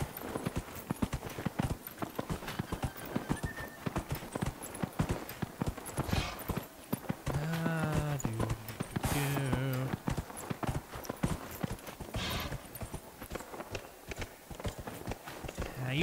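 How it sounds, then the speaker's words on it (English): A horse's hooves clip-clop steadily at a walking pace in the video game Dragon Age Inquisition, a continuous close rhythm throughout, with brief talking and tonal game sounds in the middle. "They didn't tell me what kind of horse I got."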